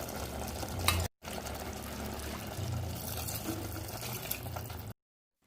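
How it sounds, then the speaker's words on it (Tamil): Water pouring steadily into a pot of mutton biryani with soaked rice, a continuous splashing gush that cuts out briefly near the start, then resumes and runs on before stopping abruptly. "நான் தண்ணி ஊற்றிக்கிறேன்"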